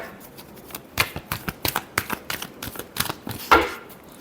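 Tarot cards are shuffled by hand in a quick run of crisp riffling bursts and snaps. The pace picks up toward the end, with one louder flurry near the finish; no other sounds.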